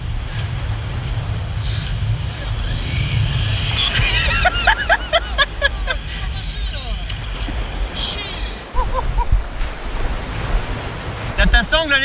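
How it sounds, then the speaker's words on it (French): Steady roar of surf and wind washing over an Icelandic beach as the tide rises, with people's voices and birdlike chirps breaking through partway. "la mer soit en train de monter rapidement"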